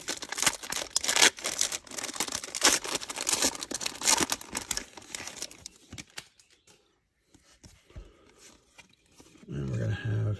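A 2022 Topps Opening Day baseball card blaster pack being torn open, with busy crinkling and ripping of the wrapper up close, mixed with a voice talking, then a near-silent pause before a short loud burst.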